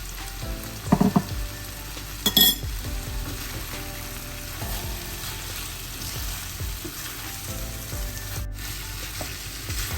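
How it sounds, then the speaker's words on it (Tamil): Fried prawns tipped into sautéed onion and tomato crackle and sizzle steadily in the pan, with a few louder clatters of stirring early on and a continuous frying hiss throughout. "வெங்காயம் தக்காளி நல்லா வதங்கி கொண்டு வந்துட்டு அதுக்குள்ள நான் இந்த பொரிச்செடுத்த இறாலை சேர்க்க போறேன்"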